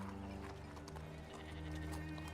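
Single horse ridden at a walk through town streets, faint steady clip-clop of hooves over a low continuous background hum, with a brief whinny-like tone, no talk.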